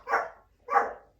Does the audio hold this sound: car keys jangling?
no